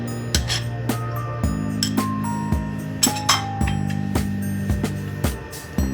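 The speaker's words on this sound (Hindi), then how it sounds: "और अब हम लोग स्पैचुला से अच्छी तरह मिक्स कर रहे हैं।" A spatula mixes beef tikka marinade with lemon juice and green chili paste in a glass bowl, giving repeated sharp clinks and scrapes in an irregular rhythm, close and fairly loud, with no talking.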